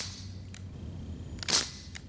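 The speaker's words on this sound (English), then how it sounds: "I'm just shooting semi-auto." A Crosman ST-1 BB rifle fires in semi-auto, shot fresh out of the box at a target about 14 yards away: a few sharp, short cracks spaced apart, one louder snap standing out near the end, with no talking.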